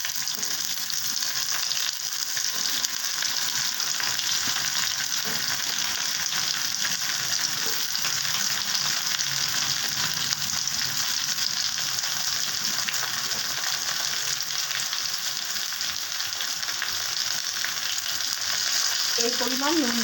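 Chopped pointed gourd (potol) and potatoes fry in a pan with a dense, constant sizzle that holds evenly throughout, with occasional faint stirring and no talk.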